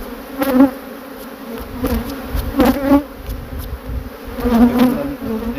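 A swarm of honey bees hums steadily at close range, the dense buzzing rising and falling in waves with individual bees zipping past, and no voices over it.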